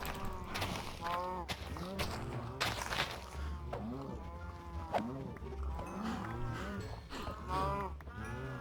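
Cows in the Minecraft video game moo again and again over steady background game sounds, the lowing moderately loud and continuous through the clip.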